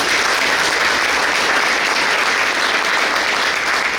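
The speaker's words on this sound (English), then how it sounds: "so that deserves a round of applause as well" A breakfast audience at a school district event gives a round of applause for level 5 schools, a dense, even wash of clapping from many hands, loud and sustained for the whole stretch.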